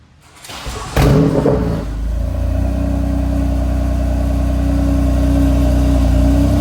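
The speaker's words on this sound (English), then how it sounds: "Start the engine and check for leaks immediately before the car comes off the lift." A BMW F80 M3 on a lift after an oil cooler replacement cranks briefly and fires up, then settles into a loud, steady, deep idle close to the microphone.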